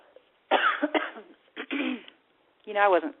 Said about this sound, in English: I wasn't coughing at all until I got on the show